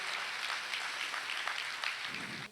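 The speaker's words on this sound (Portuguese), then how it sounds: "Vamos aplaudir essa grande vitória de Deus na vida de Davi." Church congregation applauding a sermon's celebration of a biblical victory: dense, steady clapping throughout, loud and continuous with no talk over it.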